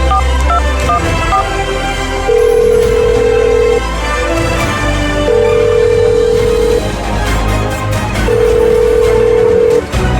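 A telephone line rings repeatedly before voicemail picks up, with long steady electronic tones sounding at regular intervals over a loud background.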